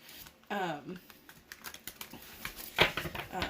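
Soft, quick clicking and riffling of foil-edged tarot cards being gently shuffled up close, with a brief voice near the start.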